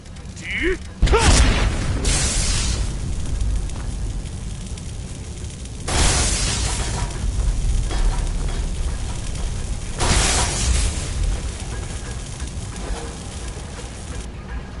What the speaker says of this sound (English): Explosions of the electrical variety, but not enough to stop me.